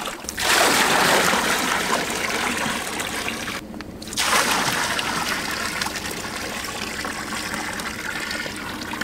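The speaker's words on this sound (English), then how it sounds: "We're up here getting the water out of this tank sitting on our trailer, and Charlotte's actually filling up pen A's" Water gushes and splashes steadily from a tank on a trailer into livestock troughs on a bison ranch, a loud continuous rush that cuts out briefly midway before resuming.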